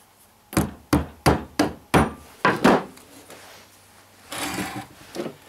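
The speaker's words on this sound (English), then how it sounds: "Metal hammer." Seven sharp metal hammer blows in a steady rhythm during a small welding job, close and loud, followed by a pause and a few softer knocks.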